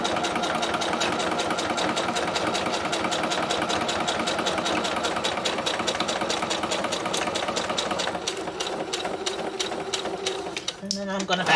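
Sewing machine stitching a Chelsea bag, a steady rapid mechanical whirring and knocking that runs continuously up close, then slows and stops near the end with a click.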